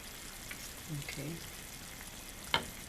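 Mapo tofu stirred slowly in a pan gives a quiet, soft bubbling and scraping with a low murmur, ending in a brief sharp clink.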